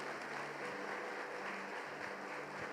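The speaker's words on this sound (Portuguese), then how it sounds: "Você pode aplaudir a Ele por isso?" A church congregation applauds during a Lord's Supper service, steady, even clapping from many hands filling the room throughout with no one speaking over it.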